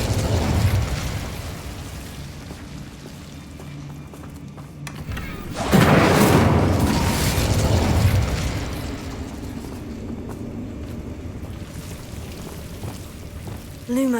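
An Incendio fire spell in Hogwarts Legacy erupts midway as a loud whooshing blast, then fades into crackling rumble over quieter background game sound.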